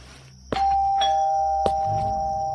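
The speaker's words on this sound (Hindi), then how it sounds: "तो उसके घर की घंटी बजी।" A house doorbell ringing at midnight, a clear electronic ding-dong chime that sounds close and loud over a steady background hum, with no voices.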